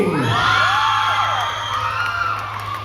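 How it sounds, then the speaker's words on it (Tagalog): A fan-day crowd at a live Cebu event cheers and screams for Team Barbie, loud sustained high-pitched whoops and shouts swelling together, with a steady hum beneath. "Okay, palakpakan sigawan for Team Barbie!"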